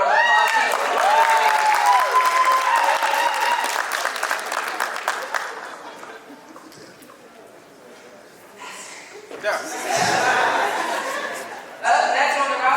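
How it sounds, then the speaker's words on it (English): Audience applause at a tech conference session, a loud sustained wash of clapping with some chuckling mixed in, dipping in the middle before swelling again, with voices and crowd noise around it. "Everyone go ahead and give him a round of applause."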